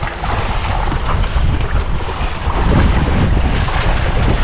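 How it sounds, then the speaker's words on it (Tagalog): Strong wind blows across a small boat at sea, buffeting the microphone with a steady, heavy roar over the wash of water, loud and unbroken throughout. "Ang lakas ng hangin."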